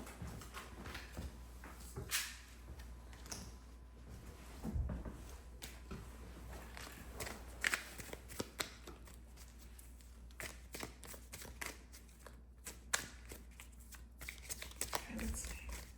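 Tarot cards shuffled and handled during a love reading, giving soft repeated riffling and sliding clicks with brief taps as cards are picked up, quiet and close under occasional talking.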